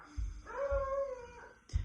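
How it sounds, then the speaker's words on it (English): A dog lets out a long, wavering howl that rises and fades, with a few low thumps around it, fairly close and alone. "A dog."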